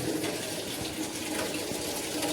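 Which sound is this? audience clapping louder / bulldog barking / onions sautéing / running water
running water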